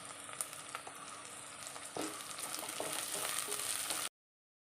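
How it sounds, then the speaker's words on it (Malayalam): Split green chilies and curry leaves frying in hot oil give a steady close sizzle with scattered crackles, which grows a little louder partway through and then cuts off abruptly; no one speaks. "കറിവേപ്പില ചേർത്ത് കൊടുക്കാം."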